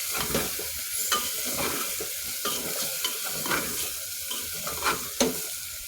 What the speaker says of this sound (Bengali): ভালোভাবে আমি নাড়াচাড়া করে নিচ্ছি। চুলার আঁচটা একদম লো মিডিয়াম দিয়ে নাড়াচাড়া করে নিলাম।